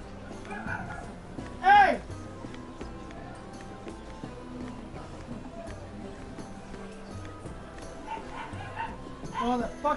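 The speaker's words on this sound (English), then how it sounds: "Fucking dog, don't fucking listen," A dog barks in a video game amid busy, layered game audio: one loud bark stands out near the start, other yips blend into the mix, and a voice speaks over the scene.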